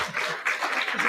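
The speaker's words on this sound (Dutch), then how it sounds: "Doe heel veel applaus op." Audience applause at a Dutch talk event, a short burst of steady clapping from a seated crowd, moderately loud and continuous throughout.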